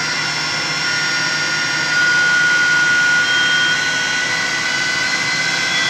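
A Gerber Sabre 408 CNC router spindle spins at high RPM, a loud steady whine with bright high tones that rise slightly in pitch as speed steps up, continuous throughout.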